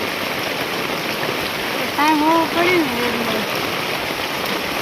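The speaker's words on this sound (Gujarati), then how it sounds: "આવી ગયો વરસાદ" Steady rain hissing continuously, close and moderately loud, with a voice briefly calling out partway through.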